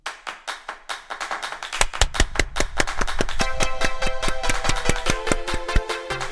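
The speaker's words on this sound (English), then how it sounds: "Sorry, I couldn't resist the clapping." Rhythmic hand clapping during a live stream, steady close claps that build into a dense loud patter alongside music, with no talking.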